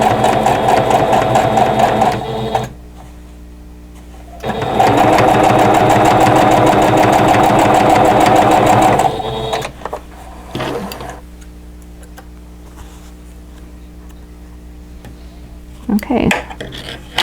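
A sewing machine stitches a quilt block seam in two loud, steady whirring runs of a few seconds each, separated by quiet pauses and light handling of fabric.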